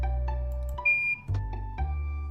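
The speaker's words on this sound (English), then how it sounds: "It beeps cheerfully in the door, then the lock clicks open." Cheerful electronic beeps from a card reader at a dormitory entrance in a video game, several short tonal chirps over a steady game music bed, with a brief higher tone in the middle.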